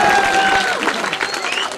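Audience clapping at a mushaira poetry gathering in Hasilpur, a dense, steady wash of many hands close by, with faint voices mixed underneath.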